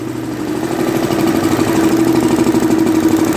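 A single-cylinder diesel engine runs on a test bench with an electrical load, a loud, steady, close drone with a rapid regular knocking pulse throughout.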